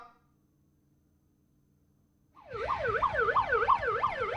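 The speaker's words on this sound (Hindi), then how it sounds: "ये देखिए एक एम्बुलेंस आ चुकी है यहाँ।" Ambulance siren arriving at a jail gate, starting after two seconds of near silence and then wailing in a fast, regular up-and-down sweep, loud and close, with no talking.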